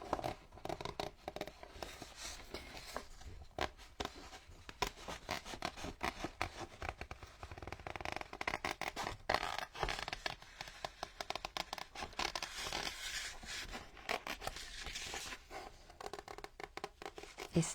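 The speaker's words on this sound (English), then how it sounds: "These Tim Holtz scissors are, they've got like a ridge to them, so they're kind of noisy when they cut" Quiet, rapid scratchy snipping and rasping of ridged Tim Holtz craft scissors cutting material, with rustling handling noises throughout and no talking.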